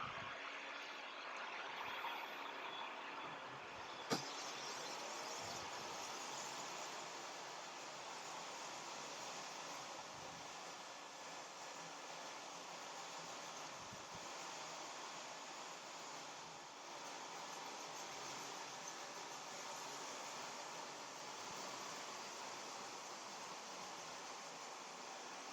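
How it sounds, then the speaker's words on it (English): A vacuum runs with a steady, even broadband roar during hardwood floor finishing, holding at a constant level with no talk over it. "and Gene can start the vacuum."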